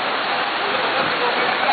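Steady rain pours down in Jeddah, Saudi Arabia, a dense, even hiss of falling water close by that holds without a break and carries no speech.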